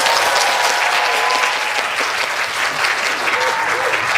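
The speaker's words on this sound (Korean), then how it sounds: "박수 한번 부탁드릴게요" Audience at a Korean film talk event with the director and cast claps steadily and loudly for about four seconds, a dense, even wash of applause with no voices over it.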